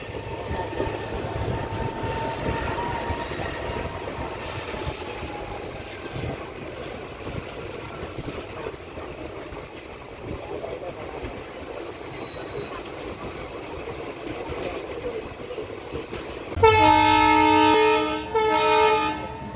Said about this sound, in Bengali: ট্রেন এখন এসে পৌঁছলো অর্চিপাথর রেলওয়ে স্টেশনে।